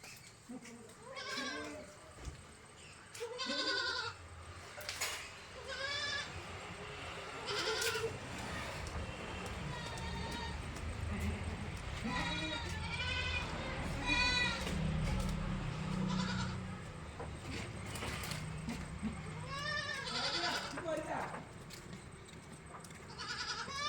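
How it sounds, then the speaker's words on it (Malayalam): A crossbred dairy goat with her young kid bleats repeatedly throughout, several calls near and clear over steady background noise with faint voices at times. "നല്ല വൃത്തിയുള്ള ആടാണ്."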